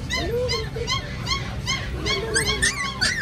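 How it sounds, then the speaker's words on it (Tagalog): A Pomsky puppy, a Pomeranian and Husky mix about two months old, gives a run of short high yips and whimpers close by at a busy pet market, with voices in the background. "Ito mga Pomsky. Pomeranian Husky."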